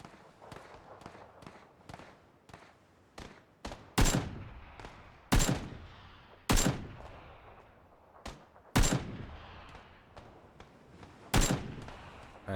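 Gunfire in the PlayerUnknown's Battlegrounds video game: a series of sharp, loud rifle shots ring out roughly every one to two seconds, each with a short echoing tail, mixed with quieter distant pops.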